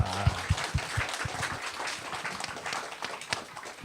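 An audience at a church evangelism gathering applauds, with irregular claps and thuds, loudest at the start and thinning toward the end, fairly distant and moderately quiet.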